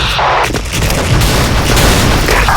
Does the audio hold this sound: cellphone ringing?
no